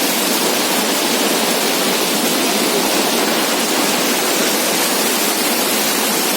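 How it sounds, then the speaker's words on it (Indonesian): Floodwater rushing hard across a cut-off village road in East Lamasi, Luwu, a loud, dense, unbroken roar of fast-flowing water with no voices. "Itu terputus, tidak bisa dilewati oleh kendaraan, bahkan berjalan kaki pun tidak bisa karena airnya sangat deras."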